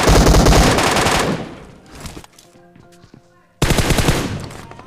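Rapid automatic gunfire in a multiplayer shooter game crackles in dense bursts, breaks into quieter scattered game sounds, then returns abruptly with another loud burst.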